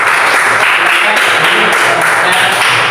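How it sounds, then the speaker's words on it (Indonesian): Classroom applause for a student group, a steady wash of clapping hands that carries evenly through the whole stretch with some voices mixed in. "Ya, tepuk tangan dulu untuk kelompok 2."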